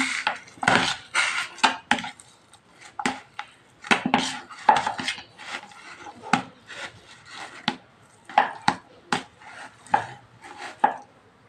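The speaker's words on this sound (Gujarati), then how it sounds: "આપણે બટેટા ફોલી લીધા છે આ રીતના આપણે બટેટાનો સુંદો કરી નાખીએ આ રીતના" Boiled potatoes are mashed for pani puri filling, producing a steady series of irregular soft thuds and scraping knocks against a dish, close up and with no talking.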